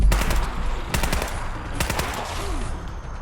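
Bursts of automatic gunfire in the video game Fallout 4, loud and close, in several rapid volleys with short gaps between them, no talking.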